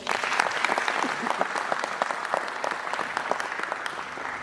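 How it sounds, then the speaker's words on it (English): A crowd claps steadily for students at a school induction ceremony, a dense and sustained round of applause in a hall with faint voices underneath. "Clap for them."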